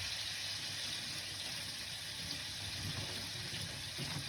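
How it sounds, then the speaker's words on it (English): Water runs steadily from a kitchen tap as green onions are washed under it for a teriyaki chicken and rice meal. The splashing hiss stays even throughout, close and moderately quiet, with no voices. "I mean, you wash the green onions."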